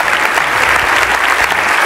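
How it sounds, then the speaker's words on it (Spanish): A church congregation at an evangelical convention claps together in a loud, dense burst of applause, close and continuous with no talking over it. "Den un aplauso al Señor"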